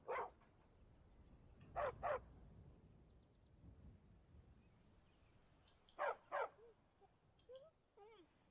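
Dog in Skyrim barking in short paired bursts, clear and fairly close, with softer whimpers and yips trailing off near the end, over a faint game background.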